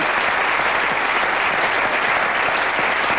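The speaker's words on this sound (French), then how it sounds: "Sous les applaudissements, s'il vous plaît, je te fais l'applaudissement pour Guy." A French television game show studio audience claps in a dense, steady burst of applause that fills the whole moment without any voices on top.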